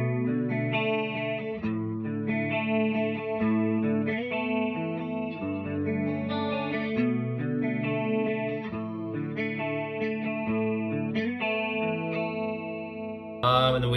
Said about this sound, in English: I'm gonna throw a chorus on